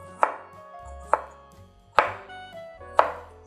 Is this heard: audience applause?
no